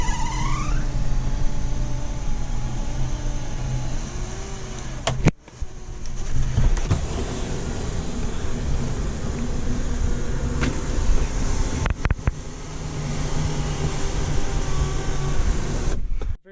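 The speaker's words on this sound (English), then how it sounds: "you just hold close and the rear sunroof winds back into position" The rear sunroof motor of a 2007 Lincoln MKX whirs steadily as the roof closes, a continuous electric hum inside the cabin. It is broken by a few sharp clicks and thumps, with a final clunk as it seats.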